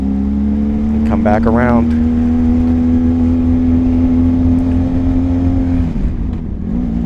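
A parallel-twin adventure motorcycle fitted with a slip-on exhaust drones at a steady, loud engine note, with a brief rising rev burst early on; a rider talks over it, and the tone drops away near the end.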